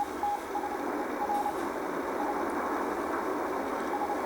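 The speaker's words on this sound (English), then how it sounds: "lots of those signals will come out like this, because a lot of the Morse code signals are actually sent manually" A manually keyed Morse code CW radio signal sounds as a faint, thin tone in short uneven dots and dashes over a steady hiss of static.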